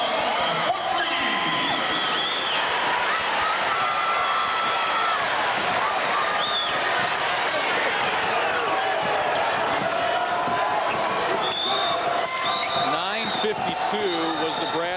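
Crowd noise in a college basketball arena during a 1995 Bradley vs Kansas State game, a sustained roar with shouts and whoops under a commentator's continuous talk and occasional ball bounces.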